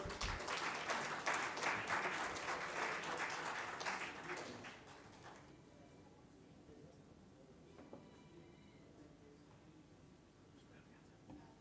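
An audience at a vegan festival applauds briefly with a burst of loud clapping that fades out after a few seconds, leaving a quiet room with faint murmurs and small noises.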